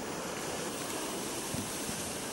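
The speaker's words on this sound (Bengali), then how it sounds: "উত্তাল রূপ পতেঙ্গা সমুদ্র সৈকতে" Rough, stormy sea waves roll in at Patenga beach during high winds, a dense, steady roar of surf and wind noise close to the microphone with no voices.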